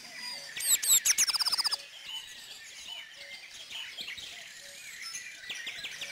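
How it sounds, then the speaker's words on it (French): Tits at a seed feeder in a garden: a burst of bright, fast repeated chirps and a quick trill up close, followed by softer scattered calls and faint twitters, with no talking. "en regardant par exemple des mésanges picorer des graines dans une mangeoire"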